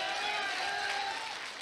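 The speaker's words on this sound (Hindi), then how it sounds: "बब्बर शेर के लिए जोरदार ताली होनी चाहिए यार।" An audience at a motivational success-story event breaks into applause, a broad wash of many hands clapping, fairly loud and sustained, tapering slightly at the end.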